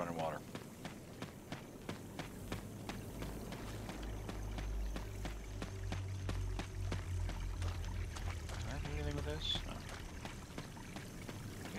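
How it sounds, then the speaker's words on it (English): Steady running water in the Resident Evil 1 HD remake, a continuous wash under regular footsteps, with a person talking over it. "it's just running water"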